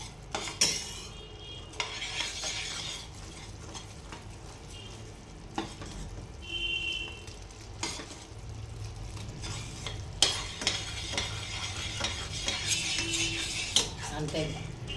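Dark sugar syrup for a puffed rice sweet stirred in a pan on the stove, a soft sizzle under repeated scraping and clinking of a spoon against the pan, close and fairly quiet.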